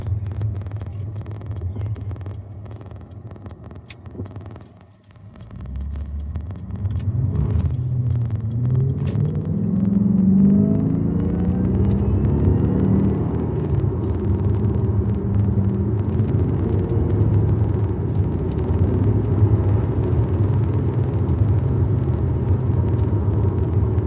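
A 2007 Jaguar X356 driving, its steady low engine and road rumble filling the cabin, dipping briefly before settling back into a continuous drone with no talk.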